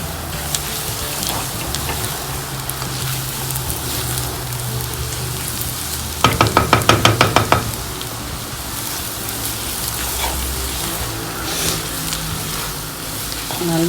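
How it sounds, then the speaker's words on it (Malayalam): Chili powder and spices frying in a pan while being stirred, a steady close crackling sizzle with a short burst of rapid clicks midway, no talking. "ഇനി ഇത് ഇളക്കുക."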